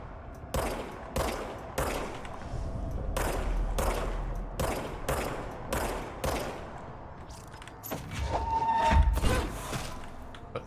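Weapon fire from the video game Control rings out as a steady series of sharp, evenly spaced shots, about a dozen in a row, followed by a louder rumbling burst near the end.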